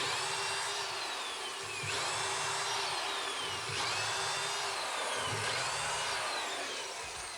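A power drill bores dowel holes guided by a doweling jig. The steady whine runs throughout, rising and falling in about four repeated passes, with no talking.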